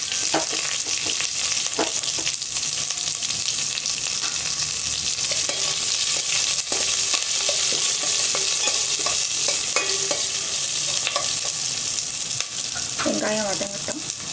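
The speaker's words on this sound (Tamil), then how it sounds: "வெங்காயம் வதங்கட்டும்." Onions and curry leaves sauté in hot oil with pepper and fenugreek for a Tamil manathakkali keerai kuzhambu, giving a steady close sizzle throughout with occasional stirring clicks and scrapes near the end.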